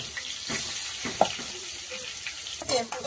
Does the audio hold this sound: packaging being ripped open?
no